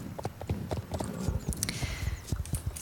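Horse hooves clip-clop at a steady walking rhythm while riding in the online game Star Stable Online, close and moderately quiet, with no voice over them.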